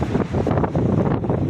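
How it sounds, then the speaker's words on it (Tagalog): Gusty wind from Storm Eowyn buffets the microphone with a loud, rough rush that surges and dips over a brief moment. "Pabugso-bugso po ang hangin."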